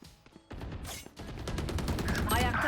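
Sheriff pistol fire in a Valorant match rings out as a few sharp cracks over busy game effects, with a player's voice mixed in.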